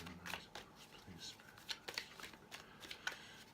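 A deck of tarot cards is shuffled close by, producing a string of crisp riffling bursts and soft flutters at an uneven pace, with no talking.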